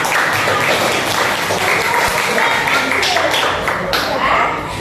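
A school class claps together in a loud, dense burst of applause that carries on steadily, with children's voices chattering and calling out over it before it tapers slightly at the end.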